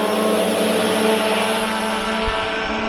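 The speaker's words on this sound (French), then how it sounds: "Vous pouvez le piloter en mode drone." A Swan K1 Pro drone flies nearby with a steady, loud propeller whine. The dense buzz holds its pitch throughout with slight shifts, and no one talks over it.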